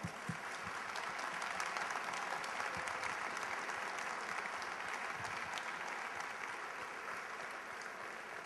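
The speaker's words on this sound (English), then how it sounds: "Let's give a round of applause for him" An audience at an award ceremony for bloggers gives a steady, even round of applause heard from a distance in a large hall, continuing without pause for several seconds.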